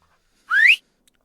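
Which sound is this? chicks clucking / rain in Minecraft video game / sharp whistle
sharp whistle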